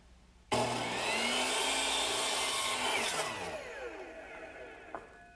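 A power saw spins up abruptly and cuts through wood in a steady, loud whine for a few seconds while making a test cut, then the blade winds down, its pitch sliding lower as it stops.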